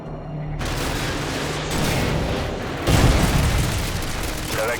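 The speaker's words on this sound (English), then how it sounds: "Cover me! AGM missile is online." AGM missile explosion in Call of Duty: Modern Warfare 2, a sudden loud booming blast followed by sustained rumbling roar and a second surge of detonation noise, dense and close.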